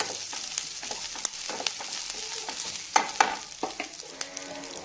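Green chillies sizzle and crackle in hot oil in a pan for chicken biryani, a steady frying hiss with scattered pops and a few sharper spits, close and moderately loud with no talking.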